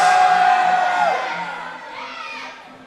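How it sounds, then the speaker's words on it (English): At a powerlifting championship, the crowd cheers and whoops loudly after a deadlift. The noise swells at first, then slowly fades into a scattered hum of voices. "Give Max a round of applause."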